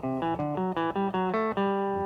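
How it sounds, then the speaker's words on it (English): Guitar playing a major scale sequence in diatonic thirds, about ten clean picked notes in a brisk, even rhythm, each ringing briefly before the next, close and alone. "Okay, that's a sequence of diatonic thirds."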